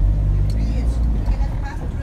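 City road traffic in Panabo City rumbles close by, a steady low engine drone of cars with passing vehicles, loud and continuous under talk.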